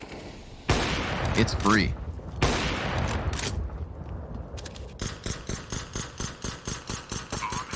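Rapid pistol gunfire on Inferno in a Counter-Strike match, a regular string of sharp close shots in the second half after louder bursts and noise, with a commentator speaking over it.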